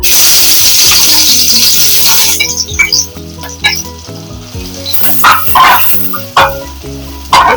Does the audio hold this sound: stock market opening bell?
no